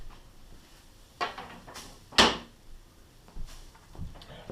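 Wooden cabinet doors are handled and set aside during painting prep: a few sharp knocks and clacks at irregular intervals, with one loud bang in the middle, close by in a quiet room without talking.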